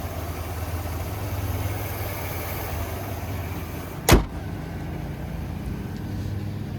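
A 2024 Chevrolet Silverado 2500HD with its 6.6-liter gas engine idles with a steady low rumble, interrupted once midway by a sharp, brief click or thump.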